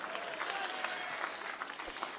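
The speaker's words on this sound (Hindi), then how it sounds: "एक बार जोरदार ताली बजा दो" An audience claps at a Hindi comic poetry gathering, a dense, even wash of applause from a crowd that holds steady throughout, heard from a moderate distance.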